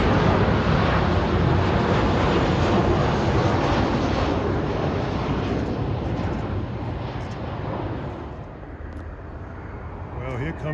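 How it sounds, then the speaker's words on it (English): A Delta Airbus A330 jet airliner arriving from Tel Aviv, heard as a loud, steady broadband engine roar that slowly fades over about ten seconds. "here comes a Delta Airbus 330 arriving from Tel Aviv, Israel"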